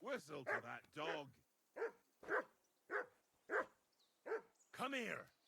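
A dog in Kingdom Come: Deliverance II barks loudly and close by: a quick flurry of barks, then single barks spaced evenly apart.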